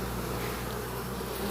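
Honey bees at a hive entrance in Jamaica make a thick, continuous buzzing drone up close, steady and unbroken with no voices over it.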